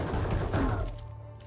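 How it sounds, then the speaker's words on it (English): Brief burst of gunfire aimed at a ship in the game Space Engineers, a short rattling volley at moderate volume that quickly fades away. "I think they're just shooting at the ship"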